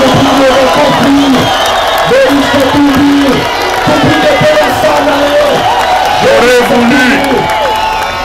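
Rally crowd in Goma cheering and applauding for a named opposition figure, a steady loud roar of voices and clapping throughout with whoops rising above, a speaker's amplified voice cutting through the noise.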